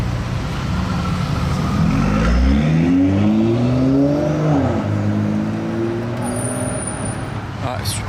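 Ferrari Superamerica driving past on a Monaco street, its engine note rising and then falling as it goes by, over steady traffic noise and a speaking voice.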